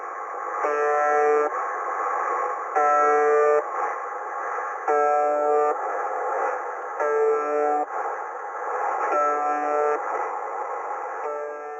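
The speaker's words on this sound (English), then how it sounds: "What you'll hear is a background of monotonous static, interrupted every few seconds by a tone that sounds a little bit like a foghorn." The UVB-76 shortwave radio station plays a monotonous, even static hiss, broken every couple of seconds by a loud, droning foghorn-like buzz tone that repeats in a regular pattern with no voices.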